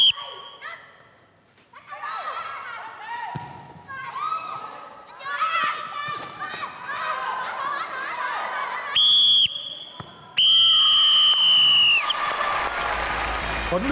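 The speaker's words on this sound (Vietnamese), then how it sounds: "đã thổi còi kết thúc trận đấu" A coach's referee whistle sounds at the end of a children's football match, two shrill, loud blasts near the end, ringing over kids' shouting, chatter and scattered applause.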